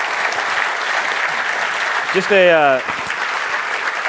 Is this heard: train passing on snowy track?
no